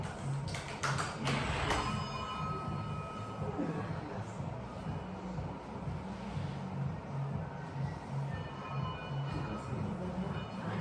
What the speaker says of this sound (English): The rhythmic triangle noises next door.